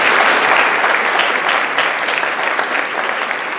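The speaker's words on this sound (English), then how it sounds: "let's give them a round of applause." An indoor audience claps in loud, dense applause that holds steady for several seconds with no talking over it.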